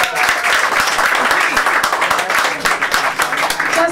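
Round of applause from a live audience for a bassist at a jazz and folk concert, close, loud and steady clapping with crisp individual claps standing out, a voice speaking under the ovation.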